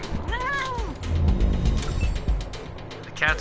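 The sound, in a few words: cat attacking in Wasteland 3 video game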